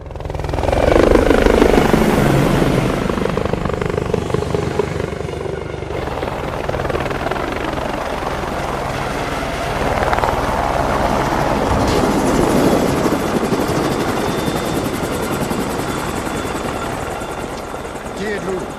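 An unmarked helicopter flies overhead with a loud, continuous rotor whir and engine roar that swells and eases across the scene, while voices talk over it.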